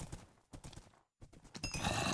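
A horse in the Minecraft video game clip-clops and whinnies, with close hoof thuds and a rising neigh breaking through game noise, loud and broken by a short silence near the middle.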